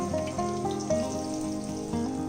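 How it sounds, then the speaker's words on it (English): Fish dropped into hot mustard oil in a pan, a steady close sizzle of frying with bubbling crackle running continuously and evenly throughout. "When the oil is hot enough, carefully and gently drop in the fish"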